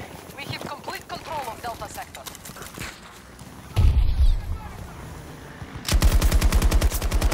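Gunfire in the Battlefield 2042 video game: rapid bursts of automatic weapon fire, with loud heavy shots midway and a sustained close rattling volley at the end.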